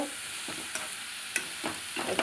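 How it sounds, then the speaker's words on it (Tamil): Food frying in a pan for a paneer, egg and Maggi recipe: a continuous close sizzle broken by several scraping stirs of a utensil, moderately loud and without any talk. "நல்லா ஃப்ரை பண்ணி எடுத்துக்கலாம்"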